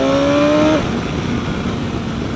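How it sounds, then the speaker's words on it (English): BMW S1000XR motorcycle engine on a 2016 bike: a brief rising whine that cuts off quickly, followed by steady broadband road and wind rush at moderate loudness. "Man, it just screams insane top-end power. This is their S1000XR pedigree engine."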